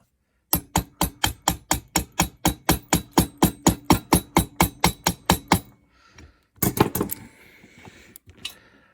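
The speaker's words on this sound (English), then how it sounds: "I'm going to gently tap on this with a hammer." A hammer taps a new bearing into a 1978 Yamaha DT175E engine in a fast, even series of about twenty sharp metal strikes, then stops; a few more clanks and scraping follow.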